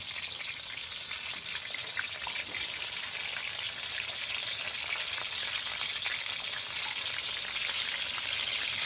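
Chicken gizzards, tails and hearts frying in hot oil, a dense, steady crackling sizzle that holds close and even throughout with no talking.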